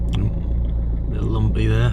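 A Ford Fiesta engine runs with a steady, close low rumble that stays even throughout the short stretch, while a person talks over it.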